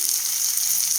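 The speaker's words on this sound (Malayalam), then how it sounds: "സവാള ഇട്ട ശേഷം നന്നായിട്ടൊന്ന് ഇളക്കി യോജിപ്പിച്ച് ഒന്ന് വഴന്ന് വരട്ടെ" Sliced onion sautés in a hot pan with a steady, bright sizzle that holds evenly throughout, close and unbroken.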